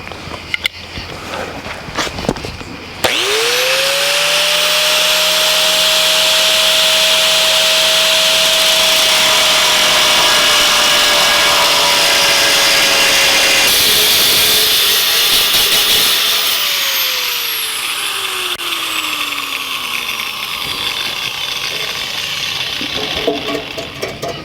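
A power tool cuts through the rusted frame of a 1949 Chevrolet gasser: after a few faint knocks it starts abruptly into a loud, steady high whine that holds for over ten seconds, then shifts to a falling, grinding tone before easing off.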